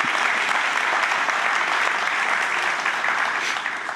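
A church congregation at a commissioning service claps enthusiastically, a loud, dense, continuous wash of many hands that holds steady and then begins to taper off near the end.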